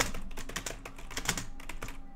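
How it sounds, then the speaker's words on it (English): A computer keyboard is mashed hard during coding, a dense burst of rapid, loud, irregular key clatter that runs steadily without pause, close up and alone. "I'm going to mash my head on the keyboard for a second."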